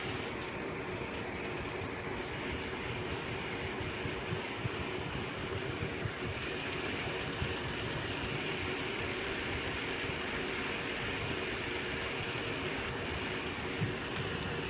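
Vornado fans run together at high and medium speeds, giving a steady, dense whooshing airflow with a faint mechanical hum, even and uninterrupted throughout.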